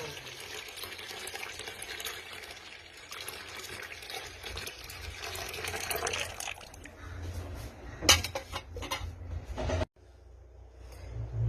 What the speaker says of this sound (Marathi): आता यात मी थंड पाणी ओतत आहे.